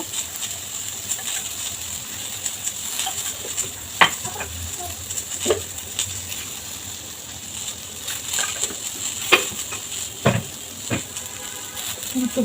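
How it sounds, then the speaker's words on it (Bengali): Kochur loti (taro stolons) fry with turmeric in a little oil, giving a quiet continuous sizzle. Stirring sounds and occasional sharp metallic clinks of a spoon against the pan break in at irregular moments. "এখন এটা খুব সুন্দর করে ভাজতে হবে"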